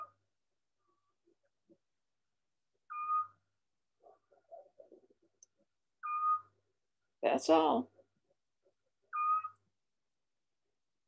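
Recorded calls of a long-eared owl played back outdoors on hotel grounds in Greece: short tonal hoots repeat about every three seconds, with one louder harsh burst in the middle and a brief voice speaking.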